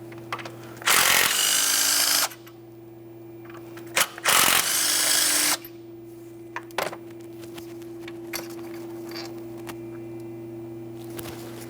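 Power tool (drill/impact driver) removing a pair of 14mm headed mounting bolts from an engine mount on a 2011-2020 Toyota Sienna 3.5L V6: two loud bursts of about a second each, with brief clicks between and a steady hum underneath.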